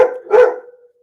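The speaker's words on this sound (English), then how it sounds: "Sorry if you can hear the dog barking." One loud dog bark close by, a sharp yelp followed by a fuller woof that trails off into a short tonal whine.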